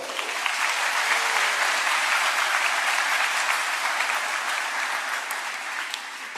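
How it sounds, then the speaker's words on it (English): Full audience applause at the Louisville Collegiate School convocation for the Board of Trustees president, a broad, even roar of many hands clapping that holds steady for several seconds before easing slightly. "Let's give her a round of applause."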